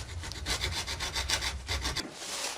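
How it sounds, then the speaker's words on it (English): Steady back-and-forth rasping strokes of a hacksaw cutting a metal mess tin lid, close and fairly even in rhythm, stopping abruptly near the end. "You can use a hacksaw and just take it off to just above the line."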